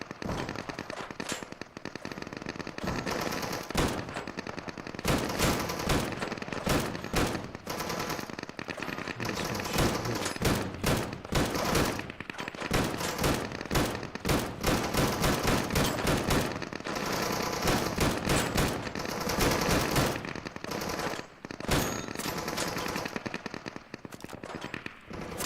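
Gunfire in the video game Deadside comes in long, loud automatic bursts of rapid cracking shots, broken by short pauses and repeated again and again to mow down enemies.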